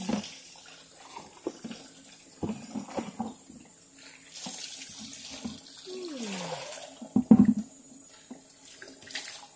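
Water is scooped into a bucket, running and splashing intermittently with scooping and sloshing sounds, a few knocks and clatters, close by and moderately loud.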